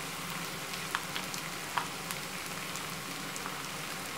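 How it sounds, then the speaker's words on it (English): Ginger garlic paste frying with softened onions in a pan for chicken biryani, a steady, close hiss and sizzle with a few faint pops, no talking. "At this stage I'm going to add in the ginger garlic paste, about a tablespoon of ginger garlic paste to this."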